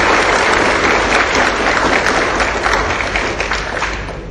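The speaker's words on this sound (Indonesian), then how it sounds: "Berikan aplaus yang mulia kepada Bapak Muhammad Arsanto Ali yang" Sustained applause from an audience at a motivational business talk, dense clapping filling the whole stretch at steady loudness with a slight fade toward the end.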